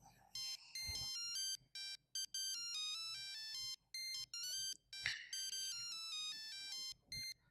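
A phone rings with a bright electronic melodic ringtone, repeating in short bursts with gaps, indoors and fairly close, with brief soft sounds between the bursts.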